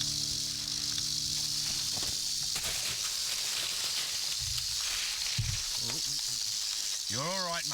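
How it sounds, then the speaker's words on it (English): A fat timber rattlesnake rattles in a continuous dry, buzzing hiss outdoors, loud and steady throughout, with shuffling and rustling near the end. "Timber rattler."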